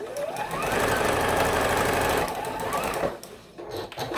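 A sewing machine stitches over a quilt block seam, a fast mechanical rattle running steadily for about two seconds, then slowing and stopping with some handling clatter.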